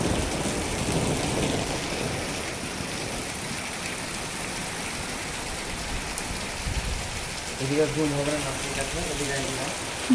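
Steady nighttime storm rain pours down throughout, a dense hiss close by, with a voice briefly talking near the end.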